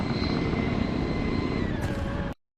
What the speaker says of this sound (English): However, we are in a chopper.